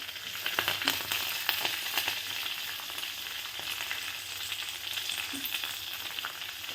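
Garlic and curry leaves fry in hot oil with a continuous crackling sizzle, steady and close, with faint scattered pops and light stirring throughout.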